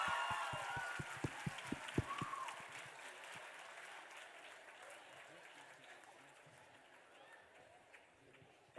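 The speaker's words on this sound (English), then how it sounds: "Can you all just clap louder, guys?" Students clap at a school Teachers' Day event, sharp loud claps in the first two seconds before the clapping fades into room murmur and chatter.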